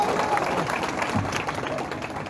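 Crowd at a political rally in Mungeli, Chhattisgarh, clapping loudly together in a dense, sustained burst of applause.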